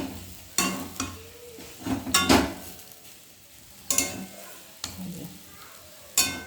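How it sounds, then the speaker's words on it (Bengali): Peanuts stirred in a frying pan, with a soft sizzle under repeated scraping strokes of a spoon against the pan, several louder bursts of stirring spaced through the clip, close by. "বাদামটাতে একটু নাড়াচাড়া করে নিয়ে তারপরে আবার নামিয়ে দেবো"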